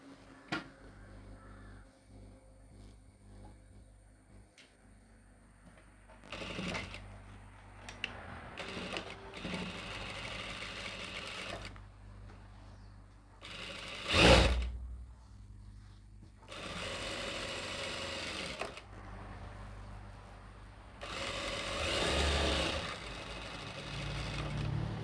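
A sewing machine stitches a churidar in several separate bursts of whirring, rapid running, with pauses between runs and a sharp knock partway through, in a quiet room with no talk.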